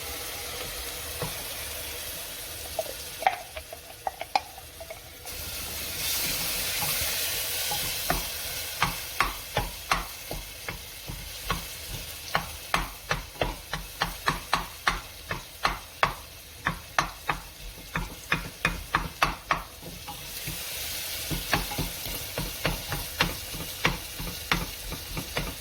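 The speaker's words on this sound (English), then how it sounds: "Then add a 1/4 cup of tinned tomatoes and mix in well with the spices." Tinned tomatoes being stirred into spices frying in a pan for lamb curry: a steady sizzle with rapid repeated spoon scrapes and taps against the pan, close and continuous, swelling louder when the tomatoes go in.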